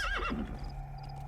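A horse in Metal Gear Solid V lets out a single wavering whinny that falls away, then a low steady hum and faint game ambience continue.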